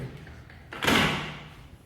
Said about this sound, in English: So the doors open, they open by itself.